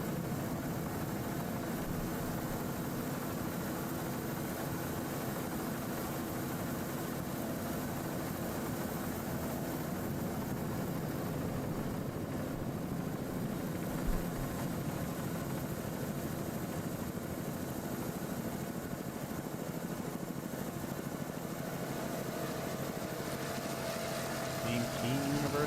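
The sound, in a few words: racing powerboat engine, Chevrolet inboard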